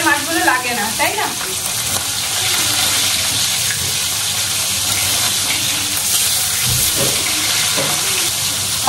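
Pieces of rohu or catla fish fry in hot oil with a steady close sizzle, a few stirring scrapes near the start and brief faint voices.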